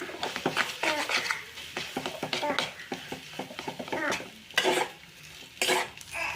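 Maggi noodles with masala being stirred in a pan for street-style Maggi, close scraping and stirring strokes in an irregular rhythm over a soft sizzle, with a few louder clanks of the spoon against the pan.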